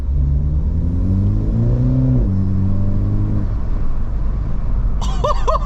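A stock F56 Mini Cooper S turbo engine spools up with a rising, wavering whine over a steady low rumble and wind, then fades; near the end a quick fluttering blow-off chirp sounds.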